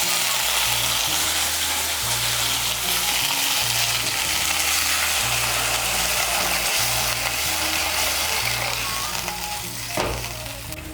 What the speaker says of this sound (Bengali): জলটাকে ভালো করে মিশিয়ে নেব।